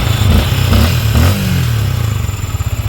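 A noisy 155 motorcycle, fitted with a big replacement radiator, revs hard with a throaty, clattering engine note, surging in bursts before settling toward a rougher, pulsing idle, loud and close with no talking.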